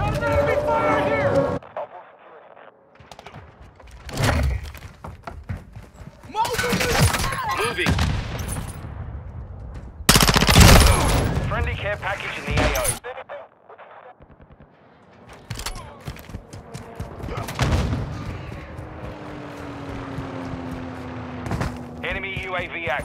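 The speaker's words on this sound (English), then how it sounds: "Got an enemy fire here!" Enemy gunfire in the hardcore Kill Confirmed mode of Call of Duty Modern Warfare 2: several loud bursts of automatic fire and sharp shots, with gaps between them, mixed with game voice callouts.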